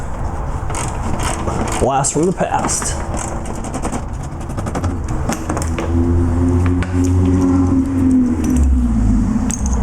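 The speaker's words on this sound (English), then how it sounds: "there goes my neighbor in his extremely loud Honda CRX" An extremely loud Honda CRX drives past on a residential street, its engine building to a rising, rumbling roar in the last few seconds, with someone talking over the earlier part.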